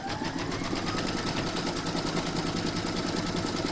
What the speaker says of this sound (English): Now going to stitch round number 2, and that's going to do the placement outline for your fabrics